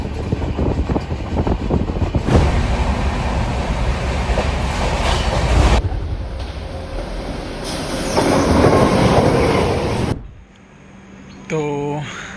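A passenger train starts off and runs along the tracks, a loud continuous rumble with rail clatter that swells midway, then drops away near the end as a brief tone sweep sounds.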